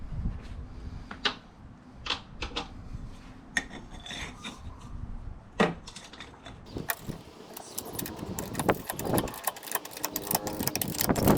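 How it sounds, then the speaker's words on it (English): A ratchet with a half-inch pipe slipped over the handle for leverage tightens a bolt during a front strut job on a 2015 Toyota Sienna, giving close, irregular clicking and rasping strokes with no talking. "I'm gonna use this 1/2-inch pipe as an extension on my ratchet so I get a little more leverage"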